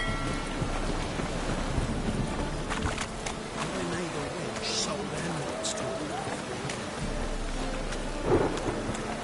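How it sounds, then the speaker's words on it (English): Rain and thunderstorm in The Witcher 3, steady rain hiss with rolling thunder rumbles and a sharper crack near the end, mixed with in-game character speech. "Rain like this would fetch a fortune in Zerrikania."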